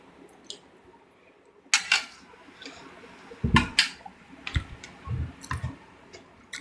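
Scattered clicks and taps at irregular intervals, a few sharper strokes with soft thuds between them, close and fairly quiet with no talking.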